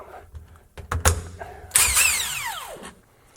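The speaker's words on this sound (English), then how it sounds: "I need a big bad drill for my big bad bike" A power drill with extenders whirs in short bursts on motorcycle bolts, then revs up into a longer, loud whine that winds down, with mechanical clicks between.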